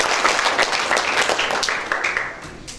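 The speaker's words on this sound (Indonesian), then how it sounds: "Beri tepuk tangan." An audience applauds at an inauguration ceremony in Bengkulu, with brisk, dense clapping that tapers off toward the end.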